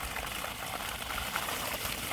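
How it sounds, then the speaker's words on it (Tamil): Water gushing under strong pressure from the pipe of a borewell pump with a six-stage pump and a 3000W BLDC motor, a steady, dense rushing and splashing that continues without a break, close and fairly loud. "இங்கேருந்து மேலே வீட்டுக்கு போகணும் தண்ணி ப்ரெஷர் சூப்பராக வந்துக்கிட்டு இருக்குது"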